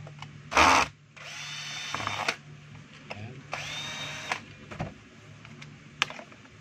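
A power tool whirs in short bursts while removing screws from inside a DeWalt D25811 5 kg jack hammer, several brief close whines separated by clicks and pauses.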